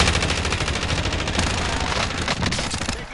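Rapid automatic gunfire in a PS4 shooter, a dense unbroken burst of loud close shots filling the whole moment, without speech.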